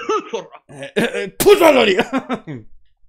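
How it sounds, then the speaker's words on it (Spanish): A person gives a few quick throaty coughs mixed with laughter, close and loud, in short bursts between breaths. "Ay, qué tos hace aquí, madre mía"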